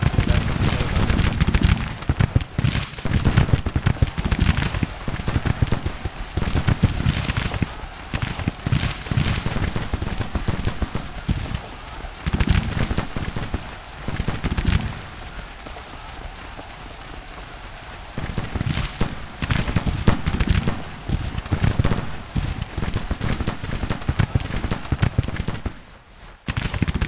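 Soldiers trade dense, crackling volleys of gunfire in a Union-side video game battle, a steady rolling clatter that thins briefly midway before swelling again, with faint talk underneath.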